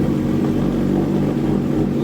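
Suzuki Hayabusa motorcycle with a Stage 2 ECU remap, its engine running with a loud, close, steady droning exhaust note that holds fairly constant throughout.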